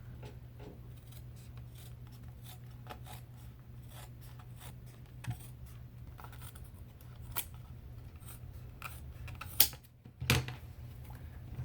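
Thick leather is cut out along a marked template for a Scottish sporran, a faint sequence of quiet snips and rasping cuts close by, with a couple of louder handling bumps near the end.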